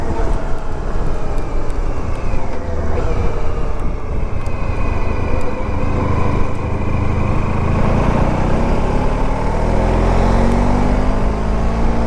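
The engine of a 1994 Honda ST1100 motorcycle drones steadily during a ride, loud and close, with heavy wind rush and gradual shifts in engine pitch throughout.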